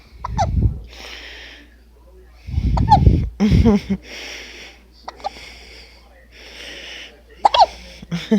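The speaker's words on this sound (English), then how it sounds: "He got hiccups." A baby hiccups repeatedly in short, abrupt bursts spaced a second or two apart, close and fairly loud, with soft breathy sounds between and occasional voices nearby.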